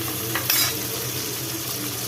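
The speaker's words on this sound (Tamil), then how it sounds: "இது கொஞ்சம் நல்லா வதக்கிக்கலாம்." Chopped onions sizzle steadily in a hot pan with whole spices for green peas pulao, a soft continuous frying hiss with faint stirring scrapes.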